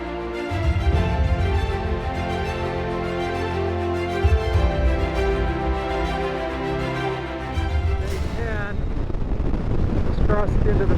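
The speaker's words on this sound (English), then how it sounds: "I'm just getting plastered by the wind." Strong wind roars and buffets across a motorcycle rider's microphone on a highway ride heading west in the mountains, loud and continuous over the engine's harmonic drone, with a louder rush toward the end.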